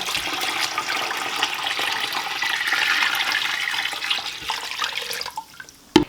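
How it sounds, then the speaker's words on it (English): A gallon of cold water pours steadily over a turkey in a brine bucket, a loud continuous splashing rush that tapers off to drips near the end. "you're going to add your additional gallon of cold water"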